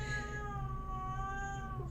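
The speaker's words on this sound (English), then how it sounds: "can you hear my cat?" A domestic cat gives one long, drawn-out meow close to the listener, a sustained wailing cry that slowly bends in pitch, with no other sound competing.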